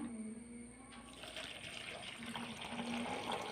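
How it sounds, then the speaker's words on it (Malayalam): Water poured into a bowl holding salt, a quiet continuous splashing and trickling fill that carries on at low level throughout. "ഇനി അതിലേക്ക് കുറച്ച് വെള്ളം ഒഴിക്കാം"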